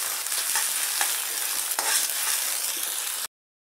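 Onions sizzle steadily in a pan, cooked to a light pink, with faint stirring clicks before the sound cuts off abruptly near the end.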